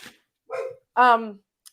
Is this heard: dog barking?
yes